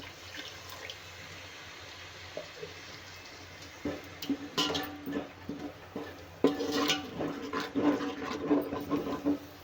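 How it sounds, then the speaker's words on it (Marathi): Water poured into a pan of roasting spices for a village-style chicken curry, giving faint gurgles, then louder, irregular splashing and sizzling bursts close by, with no talking. "तर थोडंसं पाणी घालते"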